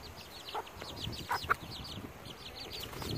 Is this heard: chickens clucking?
yes